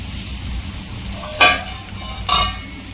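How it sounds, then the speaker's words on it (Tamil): Tomatoes sautéing in oil in a pan for a potato and capsicum gravy give a low, steady sizzle, broken by two sharp, brief scraping stirs of a utensil against the pan. "ஆயிலில் தக்காளி நல்லா வதங்கணும்"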